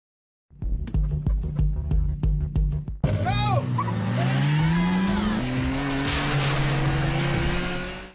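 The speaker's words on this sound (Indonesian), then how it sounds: "Nissan GT-R yang unggul speed di jalan lurus meninggalkan Toyota AE86 milik Takumi" A Nissan GT-R and a Toyota AE86 racing: a rapid series of sharp engine blips and gear shifts, then tyres squealing and engines roaring loud and close as the cars accelerate away together.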